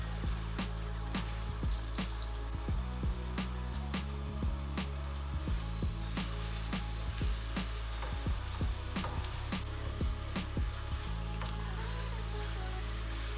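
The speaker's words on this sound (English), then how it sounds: "So now we're gonna fry the tortillas and get them all crispy on both sides" Tortillas fry in avocado oil until crisp on both sides, giving a steady close sizzle with dense crackling and scattered sharp pops throughout, no voices.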